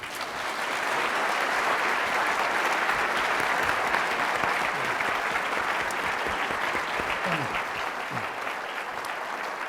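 Sustained audience applause welcoming physicist Steven Chu to a university physics lecture, a dense even wash of clapping that swells in and holds steady for several seconds.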